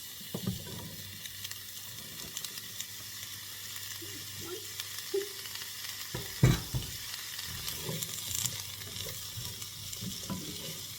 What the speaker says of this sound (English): now I'm going to add my asparagus, and I'm going to cook them for a few minutes just to get a little color on them.